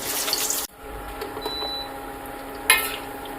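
Sliced taro drops into well-heated oil to fry as chips, making a loud steady hiss with a brief break and a fresh sizzling surge near the end, heard close with no talking.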